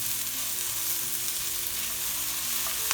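Sheek kebab mince fries hard in a pan over a high flame, a dense close sizzle and crackle that stays loud and steady throughout.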